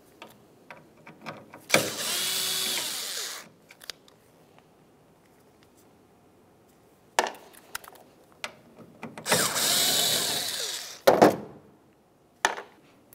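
A driver removes T25 Torx screws from a 2005-2010 Dodge Dakota taillight, producing two sustained grinding, whirring bursts between scattered close clicks and handling noises, with quiet gaps between them.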